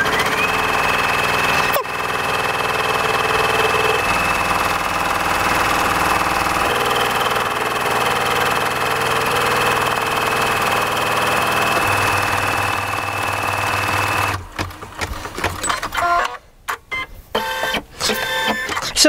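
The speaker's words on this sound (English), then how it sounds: "Now when I release that button, the machine's going to stitch at its speed that I've set, which I think is about 800 stitches a minute." Embroidery sewing machine stitching steadily at a set speed of about 800 stitches a minute, a continuous mechanical whir with a steady tone that runs alone before giving way to irregular clatter near the end.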